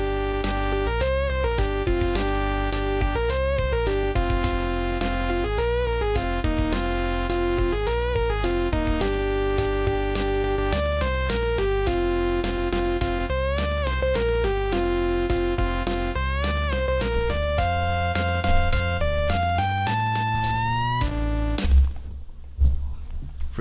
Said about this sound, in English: And the modified version that fits Pico Pals sounds like this.